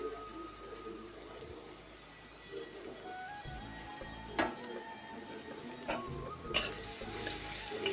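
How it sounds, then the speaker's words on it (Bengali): Garlic and salted onion fry in a pan, a quiet low sizzle with occasional louder crackles and spits, including a sharp pop near the end, and no voices. "এবারে রসুনটা দিয়ে দিই চলো রসুনটাও একটু ভাজা ভাজা হবে"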